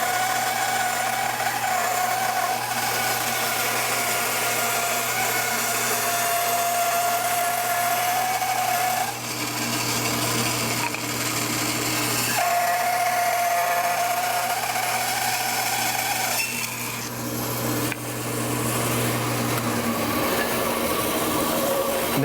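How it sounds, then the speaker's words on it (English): A bandsaw rips thin strips of wood against the fence, its steady loud motor drone and blade whine holding for the whole stretch with brief changes in pitch as the cut load shifts, and no talk. "Now this is what's really neat on the bandsaw."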